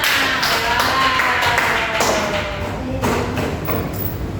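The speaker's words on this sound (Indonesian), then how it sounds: "Tepuk tangan dong buat kalian semua." A small group applauds at the end of a classroom group-counselling game, uneven claps and taps over a few seconds with a brief pause midway, fairly close and moderately loud.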